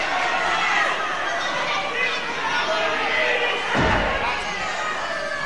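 Wrestling crowd at a Mal Sanders versus Mark Rocco semi-final bout, a steady roar of chatter and cheering filling the hall, swelling briefly near the end with a dull thud as a body hits the mat.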